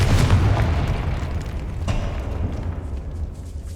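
A Confringo spell explodes in the Hogwarts Legacy video game inside a decaying catacomb, a heavy rumbling boom that rolls on with a second crack partway through before fading.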